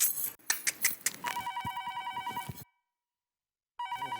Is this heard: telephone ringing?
yes